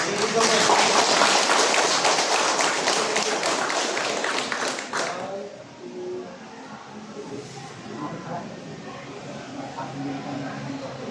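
Crowd clapping at a police certificate-of-appreciation presentation for the Montalban Police Station, loud and dense for about five seconds, then cutting off abruptly as talking and faint room noise take over.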